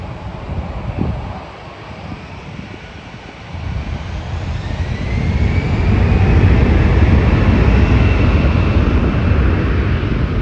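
A Porter Airlines airplane at Toronto Pearson airport roars as it passes, a broad engine rumble that swells from moderate to loud and holds steady, with wind buffeting the microphone.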